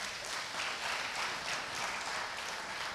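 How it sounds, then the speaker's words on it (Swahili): Church congregation applauding during a Sunday service, a steady sustained round of clapping at moderate distance, with no talk over it. "Asante kumpea makofi hayo."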